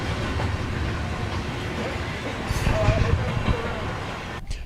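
Tourist train rolling through the Dole Plantation in Hawaii, a steady low rumble of wheels and carriage noise with a faint clatter, while people talk aboard.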